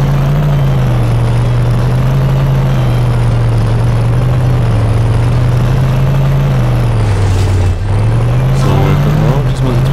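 Car being driven in The Simpsons Hit & Run, a steady droning engine hum that holds for the whole stretch with faint game sounds on top and a brief dip near the end.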